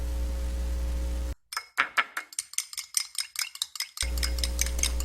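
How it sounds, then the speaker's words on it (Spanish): An egg beaten briskly with a fork or whisk in a bowl while making homemade conchas, a quick run of close, sharp clinking strokes against the bowl, with no one talking. "Batimos el huevo para poner a la concha para unir la costra"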